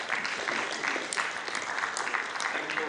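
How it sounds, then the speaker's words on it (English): Audience applause at an Inter Religious Council of Uganda consultative assembly after a professor's presentation: steady, dense clapping from a large crowd that fills the whole stretch at an even level. "Can we give him another applause?"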